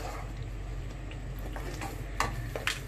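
Chicken pieces being stirred into a korma in a pan, a low continuous simmer with a few soft scrapes and light clinks of a utensil against the pan near the end.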